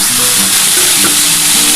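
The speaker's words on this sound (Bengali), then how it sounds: "বন্ধুরা দেখো, তেলটা গরম হয়ে গেছে, আমি আলুটা একটু দিয়ে দিচ্ছি।" Potatoes fry loudly in hot oil for a street-style ghugni, a dense, close, continuous sizzle and crackle with no voices.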